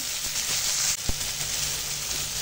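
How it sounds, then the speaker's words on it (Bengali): Chopped tomatoes fry with onions and green chillies in the oil used for frying fish, giving a steady hiss with a small thump partway through. "এবার ওই মাছ ভাজার তেলেই পেঁয়াজগুলো দিয়ে দিলাম। পেঁয়াজ কাঁচা লঙ্কা দিয়ে ভাজা হয়ে গেছে, এবার টমেটো কুচোগুলো দিয়ে দিলাম।"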